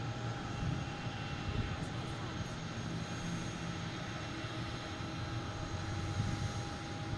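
A JetBlue airliner in vacation livery roars at Boston Logan airport. The jet engine rumble is steady and broad and holds through the whole stretch, with no voices over it.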